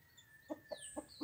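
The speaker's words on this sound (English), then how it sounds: "Mr. Rooster feeding the little chicken because her mommy is dead" A rooster and chickens cluck near a feeding spot, with four short, evenly spaced clucks, soft and fairly close, and faint higher chirps behind them.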